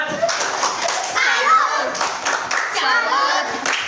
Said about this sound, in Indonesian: Silakan berikan tepuk salut.